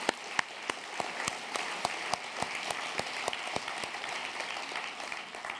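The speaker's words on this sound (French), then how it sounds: "On peut applaudir ce que Dieu a fait" Congregation applauding at a church gathering, fairly faint and set back, with a regular run of distinct claps over a soft crowd patter.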